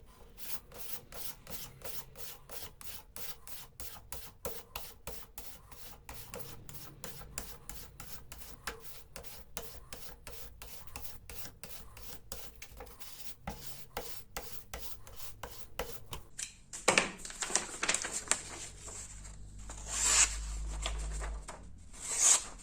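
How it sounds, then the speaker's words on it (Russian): A knife blade drawn over dry paper sandpaper in fast, regular rasping strokes, close and steady, then a few heavier, louder scrapes near the end. "Можно, конечно, смочить, но это бумажная такая наждачка, она размякнет очень быстро."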